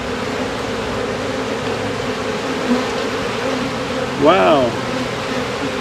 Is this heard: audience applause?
no